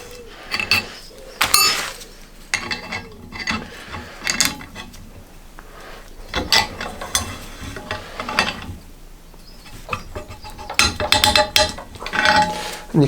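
A hand reamer cuts through a swingarm bushing on a Triumph Bonneville T1, giving intermittent bursts of metallic scraping and clicking as the tool is turned in quarter-turn strokes, with short pauses between and no speech.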